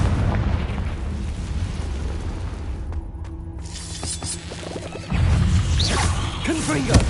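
A Confringo fire spell blast in Hogwarts Legacy, a deep rumbling explosion with a whooshing burst that swells loudly near the end over a continuous game soundscape, with a voice speaking in between.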